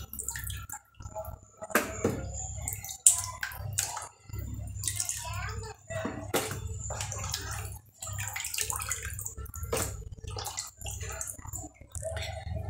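Tap water runs in a kitchen sink while raw broiler chicken is rinsed, a close splashing stream that stops and starts, with a person talking over parts of it.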